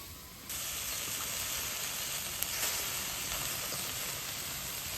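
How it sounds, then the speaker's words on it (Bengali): Dheba greens hit hot oil in a village kitchen and burst into a steady, close sizzling hiss that starts abruptly and carries on evenly, with no talking. "এখন এই যে ঢেবার শাকটা ভেজে নেব"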